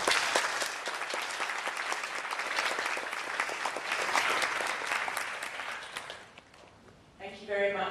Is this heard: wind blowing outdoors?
no